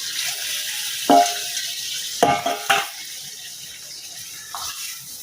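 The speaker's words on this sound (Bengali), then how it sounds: "মশলাটা একদম প্রপার কষে গেছে দেখো তেল ছেড়ে দিচ্ছে মাছটা দিয়ে দিলাম" Fish goes into a pan of oily, well-cooked masala. A few sharp clatters and splashes give way to a low, continuous sizzle.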